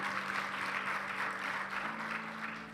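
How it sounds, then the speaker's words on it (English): Audience applause for a youth-led intergenerational dialogue panel, a dense, steady wash of clapping from a hall crowd, moderately faint and distant, with a steady low hum underneath. "Another round of applause to the panel, please."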